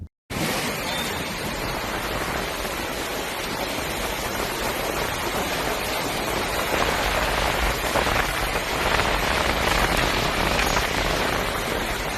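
Steady rain falling in wintry weather on a road, a dense continuous hiss of drops on a hard surface, even and unbroken with no voices.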